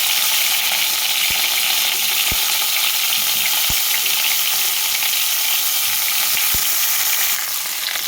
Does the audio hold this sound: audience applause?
no